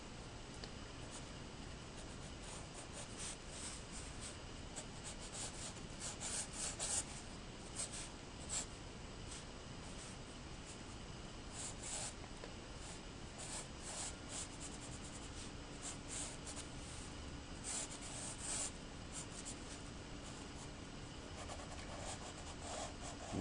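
Pencil strokes on paper during a hand-drawing session, soft scratchy rubbing and scribbling in bursts, close and quiet, steady throughout with no talk.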